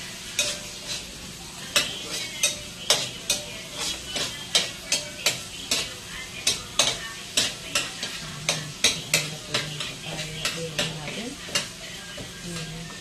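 Ginger, onion and garlic sautéing in a pan, with steady sizzling under a regular stream of sharp spatula scrapes and taps, roughly two per second, close and fairly loud throughout.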